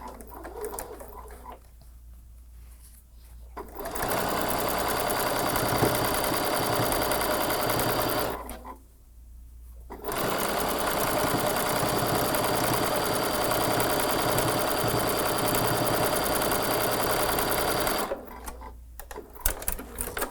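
A sewing machine runs steady, loud and close as it stitches a quilt seam, in long continuous bursts of whirring needle chatter separated by brief pauses.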